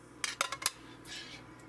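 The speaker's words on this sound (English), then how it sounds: "let's just go ahead and dump all the beans into our slow cooker" Canned beans tumbling into a slow cooker, a few quick clinks and knocks of metal and ceramic followed by a soft wet slide, close by with no talk.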